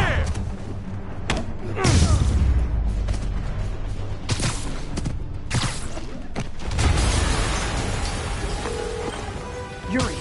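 Explosions and heavy booms in an action video game, several loud thudding blasts with crackling debris spread across the scene, mixed with game sound effects and occasional voices.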